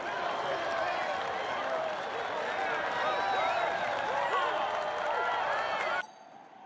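Team members and fans applaud and cheer at the podium in the MotoGP 19 video game, a steady, dense crowd roar that holds for six seconds, then cuts off abruptly.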